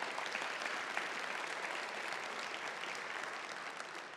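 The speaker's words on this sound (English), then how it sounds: "Please give them a round of applause." Steady audience applause at a college State of the College address, a dense wash of clapping hands filling the room evenly and continuously, with no talk over it.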